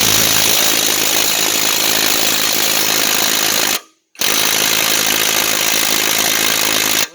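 A cheap cordless impact driver bought on Amazon runs with a loud, steady hammering buzz on a socket fitted to bolts, stopping briefly in the middle before starting again at full volume.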